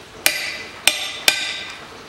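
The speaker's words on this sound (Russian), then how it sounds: "Берем и забиваем пыльник в скобу суппорта." A hammer drives a dust boot into the caliper bracket of a 1998 Toyota Mark II JZX101, sounding as three sharp metallic strikes with short ringing tails, close and loud, with no talk.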